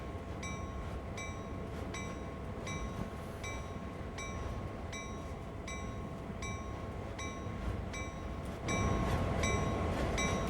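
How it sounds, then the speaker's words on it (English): A locomotive bell rings steadily in the train simulator Train Sim World 2, evenly spaced metallic clangs repeating throughout over a constant rumbling engine and rail bed, the rumble growing louder near the end, with no talk. "There's a bell ringing."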